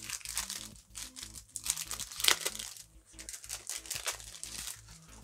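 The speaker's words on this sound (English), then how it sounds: "I'll take them out of cellophane and show you the pins." Cellophane packs being crinkled and torn open to get at enamel pins during an unboxing, a busy run of close crackling and rustling with brief louder crunches.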